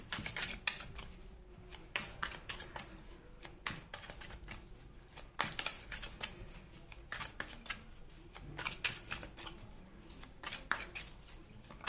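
Tarot cards are shuffled and drawn by hand close up, a quiet run of riffling, flicking and sliding with sharp papery snaps throughout and no talking.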